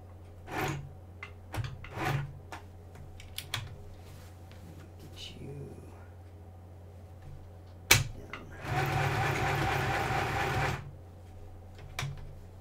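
A sewing machine stitching fabric for a homemade Halloween costume runs in one steady burst of about two seconds, after scattered handling clicks and knocks, close and fairly loud with no talking.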